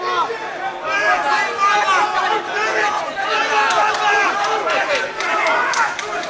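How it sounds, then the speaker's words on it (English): An excited crowd roars and shouts behind commentators at an amateur MMA championship bout, a loud, continuous swell of voices and cheering rising and falling as commentary carries on over it. "We can hear the crowd behind us really getting into this one."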